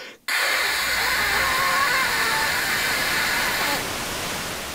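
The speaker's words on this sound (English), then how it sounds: "it outputs white noise" Loud, steady white noise static output by the LJN Video Art game, cutting in abruptly after a brief quiet moment and holding as an even hiss before dropping slightly in level near the end.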